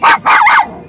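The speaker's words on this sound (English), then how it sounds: "Sorry about my dog." A dog barks twice in quick succession, loud and close, with a shorter trailing yelp fading out at the end.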